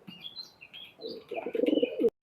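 Highflyer pigeon of the Teddy Golden cross cooing close by, soft repeated coos building into a louder rhythmic run of calls that ends abruptly, with faint chirps earlier in the short stretch.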